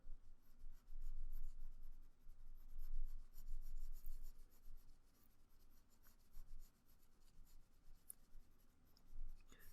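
A pencil shades a drawing of lips with quiet, scratchy strokes that rub back and forth in soft, uneven bursts.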